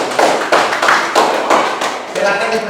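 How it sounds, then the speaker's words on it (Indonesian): Classroom applause for a student group after a teacher calls for it, heard as a few loose, broad claps spread across the moment rather than a dense ovation. "Tepuk tangan buat Sally kelompok 1."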